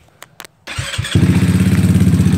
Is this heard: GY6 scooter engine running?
yes